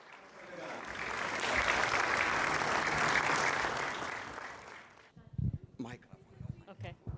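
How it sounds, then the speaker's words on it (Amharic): Hearty applause rises and swells for about five seconds at the Ethio-American Chamber of Commerce award dinner, then cuts off as a speaker begins talking. "ጭብጨባ ያስፈልጋል።"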